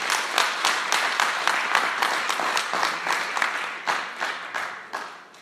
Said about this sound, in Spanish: Ponle un aplauso al Señor.